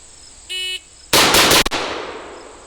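A quick volley from an enhanced .30 carbine fired at 7 yards, a tight cluster of sharp cracks ringing out right after a short electronic start beep, loud and close with a fading echo.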